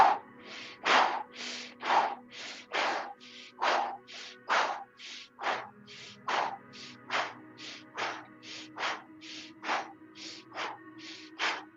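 Rapid, forceful qigong breaths of the fanning-the-fire exercise, a long run of about thirty sharp, evenly spaced puffs, close and steady, with no talking.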